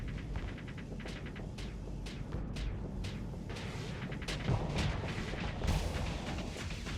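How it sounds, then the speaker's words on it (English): Missiles strike a ship in the space combat game Starsector, firing off a rapid run of sharp, faint impact bursts one after another, followed by deeper booms. "took a nice hit from one of the missiles"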